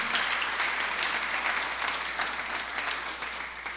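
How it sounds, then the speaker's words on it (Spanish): A church congregation applauding together, dense continuous clapping that fills the room at moderate loudness and holds steady for a few seconds. "Yo le invito a que se ponga de pie y déle ese aplauso al Señor bien fuerte, hermano."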